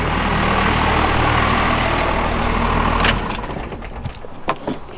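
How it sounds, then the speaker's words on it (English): A loud truck engine idles nearby in a steady, heavy rumble. After about three seconds it cuts off, leaving a few light clicks and jangles. "Hold on, let me turn this truck off."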